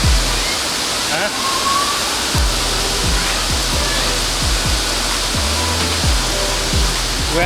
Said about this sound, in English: You can see the waterfalls behind me.